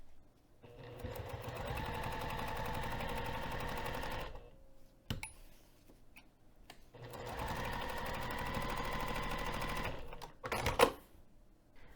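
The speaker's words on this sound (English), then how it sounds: "So I'm going to take that over to the sewing machine now." A sewing machine stitches a dart on a bag in two long bursts of rapid, even stitching, each four seconds or so, separated by pauses with small clicks and handling noise.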